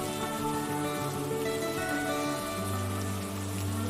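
Steady rain falling outside an open window, a continuous even hiss and patter with a low hum underneath, unbroken throughout.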